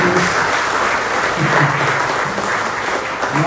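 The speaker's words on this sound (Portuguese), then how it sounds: "Pode aplaudir porque foi exatamente o que aconteceu conosco." Church congregation at Ohana Church bursts into dense, steady applause, a continuous wash of many hands clapping close by without pause.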